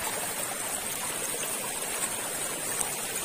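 Clear stream water flows steadily during a monsoon outing, a constant broadband wash of rushing water with no clear voices.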